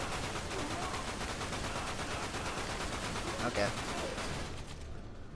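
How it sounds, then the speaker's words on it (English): Sustained rapid machine gun fire in the shooter game Dirge of Cerberus, loud and continuous for several seconds with dense repeated bursts, a voice briefly speaking over it. "Machine gun bullets."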